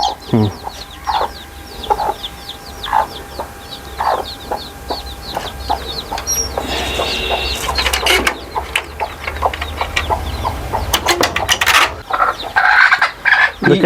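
Native chickens in a home poultry farm shed cluck and squawk in repeated bursts, with a flurry of louder scuffling and cackling midway, close and busy throughout with no clear speech.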